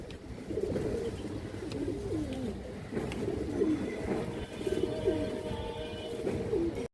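Pigeons of an old breeding line, kept at a pigeon sale, coo repeatedly in soft, low, rolling calls against faint background noise.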